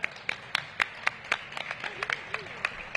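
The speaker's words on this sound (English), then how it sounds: "So let's clap it up" Scattered clapping from a small audience at a city budget engagement forum, sharp distinct claps in a loose uneven rhythm, fairly close, with voices murmuring underneath.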